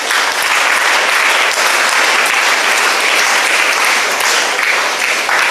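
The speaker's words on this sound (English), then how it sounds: "Just give big round of applause to her." Audience at a chief guest's address giving a big round of applause, loud, dense and continuous clapping that holds steady before easing at the very end.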